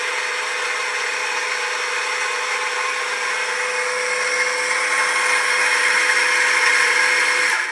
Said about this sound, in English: So the first thing we're going to do is we're going to grind some beans.